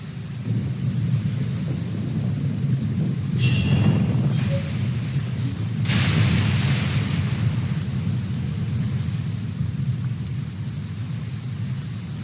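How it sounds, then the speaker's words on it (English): Rain pours steadily in Genshin Impact, a dense low rumbling wash with rolling thunder swelling around the middle, no voices. "Oh no, it's raining!"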